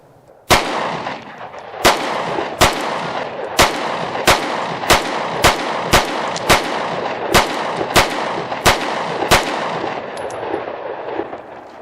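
A Taurus GX2 9mm pistol fires about fourteen sharp, loud shots at a steady, unhurried pace indoors over a carpeted floor, with no talking.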